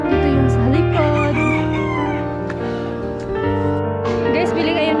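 Several roosters crow loudly and repeatedly, overlapping with clucking chickens close by, with music playing underneath.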